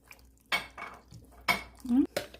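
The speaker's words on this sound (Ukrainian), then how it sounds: "розколотивши, я його виливаю в оце блюдо" Beaten mixture for a lazy kholodets poured into a dish, with clinks of dishware and cutlery and brief wet splashing in short bursts, close by.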